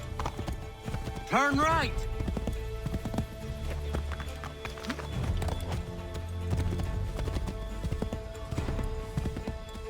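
A horse gallops in the 2012 PC game Assassin's Creed III. Quick, steady clip-clop hoofbeats run throughout, with a whinny early on, while a voice shouts over them.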